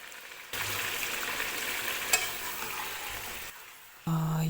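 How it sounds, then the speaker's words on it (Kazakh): Chicken pieces hit very hot oil for Kazakh-style pilaf and set off a loud, steady sizzle with a brief sharp pop in the middle. The sizzling cuts out near the end and a short tonal sound follows. "Май қатты қызғаннан кейін етімізді саламыз"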